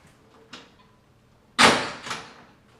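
A bifold closet door slides about an inch along its bottom pin, giving a faint scrape followed by a sharp, louder knock and a short rattling slide, all close by.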